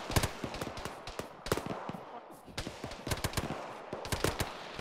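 Rapid bursts of automatic gunfire and single shots in an Arma military firefight, crackling in uneven volleys across the whole stretch, fairly distant and dense, with no talk over it.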